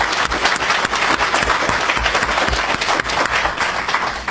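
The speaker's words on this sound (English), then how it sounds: "let's give him a round of applause" An audience at a commemoration event for Farah Pahlavi applauds loudly, with dense continuous clapping and distinct individual claps sounding close throughout.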